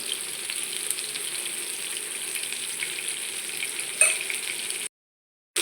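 Fish frying in oil in a pan, a steady close crackling sizzle with one louder spatter near the end before the sound cuts off to silence.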